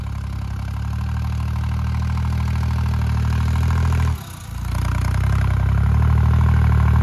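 A New Holland 3630 tractor engine labours hard pulling an overloaded trolley, a loud, steady low diesel drone that dips briefly and then surges back to full strength.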